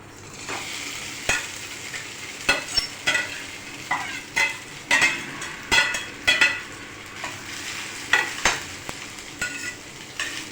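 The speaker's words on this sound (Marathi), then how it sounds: "आता या ठिकाणी आपण बटाटे असे बारीक चिरून घेतलेले आहे ते टाकणार आहोत" Finely chopped potatoes tossed into a pan of hot oil with cloves, sizzling steadily while a spoon stirs them in a run of repeated scraping strokes, close and moderately loud.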